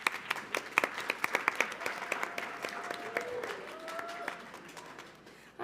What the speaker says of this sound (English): Could I also get a round of applause for System?